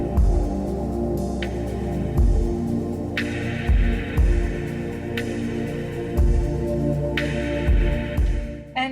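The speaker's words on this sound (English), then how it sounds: "I'm just going to get these ends sewn on" A sewing machine stitches the ends of elastic on a headband in a home studio, giving a steady humming mechanical run with a repetitive throbbing pulse and periodic louder thumps, close and without talk.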